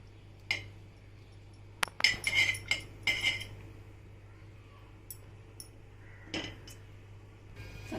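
A metal spoon clinks against a pan in a home kitchen as a spoonful of ghee is added, giving a few sharp scattered taps and scrapes over a quiet background hum.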